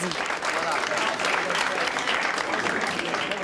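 Activists applaud the premier Jacques Parizeau at a polling station on Quebec's 1995 referendum day, a dense, steady clapping close by that fills the whole stretch among a crush of journalists.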